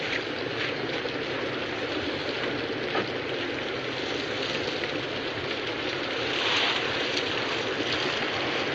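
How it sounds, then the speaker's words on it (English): Steady, dense rain falling during a storm outside a small roadside motel of faded cabins, a constant loud hiss with no breaks and no voices. "the storm had broken, and the rain had begun to fall"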